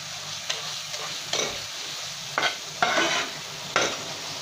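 Tomatoes fry in oil in a pan for a prawn curry, giving a soft continuous sizzle broken by several sharp scrapes and taps as they are stirred and pressed with a spatula.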